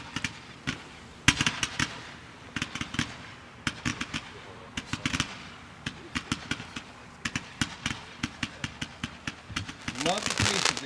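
Neon Tracer firework cake firing 210 shots outdoors, sharp loud cracks in rapid irregular bursts with short gaps between, ending in a dense crackling flurry, with faint background hum.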